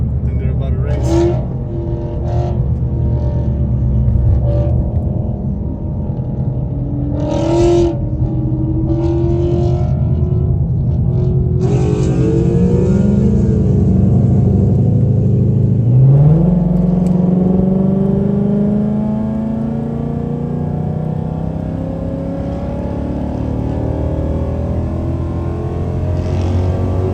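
Exotic cars, among them a Corvette C8, race at a loud car meet. Engines rev and roar close by, with a rising surge of acceleration midway, while voices chatter underneath.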